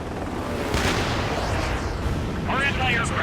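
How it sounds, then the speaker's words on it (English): Enemy fire pounds an air base in Ace Combat 7: Skies Unknown, heavy rumbling blasts of artillery and gunfire rolling loud and continuous, with a short burst of radio chatter near the end. "They already are firing on us."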